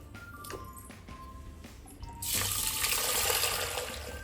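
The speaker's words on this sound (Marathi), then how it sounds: "आता ही डाळ आपण स्वच्छ पाण्यानं धुवून घेऊ छान मस्त." Toor dal being washed under running tap water: quiet handling and light splashes at first, then the tap gushes on about halfway through and a loud, steady stream of water pours over the lentils.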